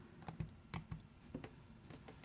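Repeated sharp plastic key presses on a graphing calculator while entering an equation, a handful of irregular clicks close by and fairly soft, with no talking.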